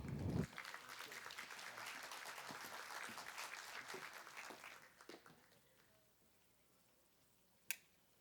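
An audience at a public accounting congress breaks into loud sustained applause right after an announcer's closing words, the clapping holding steady for about five seconds before fading out, followed by a single sharp tap near the end.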